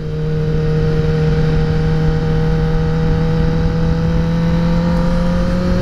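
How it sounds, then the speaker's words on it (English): Dirt bikes riding out of a park are heard as a continuous engine drone with a steady tone rising slightly in pitch, fairly loud and even for the whole stretch, with no talking. "Some dirt bikes coming out of the park."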